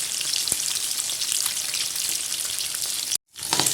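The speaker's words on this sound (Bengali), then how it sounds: "মাছগুলো আমার ভাজা হচ্ছে।" Fish pieces for chili fish fry in hot oil with a loud, steady sizzle that fills the clip, broken by a brief sharp click and a short near-silence near the end before the sizzle returns.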